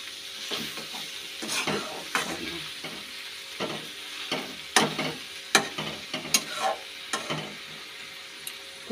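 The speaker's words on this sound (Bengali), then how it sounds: "শুটকি মাছ, আলু, একটুখানি আলু, শিম আর পেঁয়াজ কুলি দিয়ে, কাঁচা লঙ্কা দিয়ে ভাজা।" Dried fish frying in a pan with potato, beans, onion and green chilli, with a steady soft sizzle broken by repeated scraping stirs of a utensil against the pan, close and fairly quiet, no talking.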